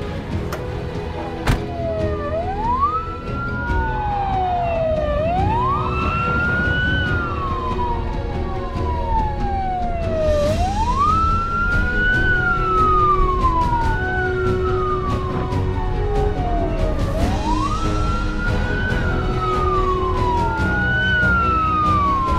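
Ambulance siren on the streets of Beira, Mozambique, its rising and falling wail looping steadily and loudly for over twenty seconds over a constant hum of traffic, with no voices.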